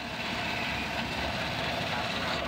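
A 1991 Toyota Kijang Super engine idles in a steady, smooth drone that runs unbroken and fairly loud throughout.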